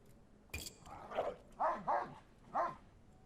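A dog in the video game Bladesong growls and barks: a sharp onset, then three or four short snarling bursts in an uneven rhythm, moderately close and fairly quiet against a faint background.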